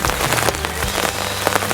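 Heavy rain pours down steadily outdoors beside a fishing spot surrounded by bushes, a dense continuous wash of drops with scattered louder splashes, no voices.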